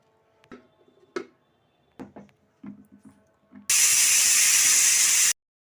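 Pressure cooker whistle from a cooker of soaking chickpeas, a loud, steady hissing blast of steam lasting under two seconds, preceded by scattered kitchen clicks and knocks.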